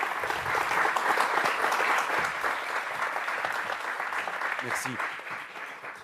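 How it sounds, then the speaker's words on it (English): Audience applause at a technology governance summit, steady dense clapping from a large crowd throughout, loud and sustained before gradually thinning out, with a brief spoken thanks. "Let's give a big round of applause"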